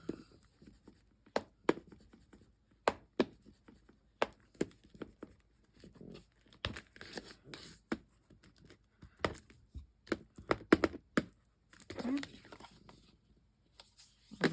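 Paper glued onto chipboard for a notepad cover is burnished in a quiet room with a series of sharp taps, rubs and scraping strokes in irregular bursts, with some brief handling noises between them.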